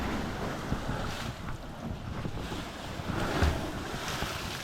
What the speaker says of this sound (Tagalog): tanaw natin dito kung gaano kalakas ang alon pagkabagyuhan